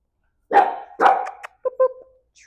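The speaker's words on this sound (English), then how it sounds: "if he gets kind of stuck barking at something" A dog named Cassian barks twice in quick succession, sharp and loud at close range, then gives a couple of shorter, softer yips before falling quiet.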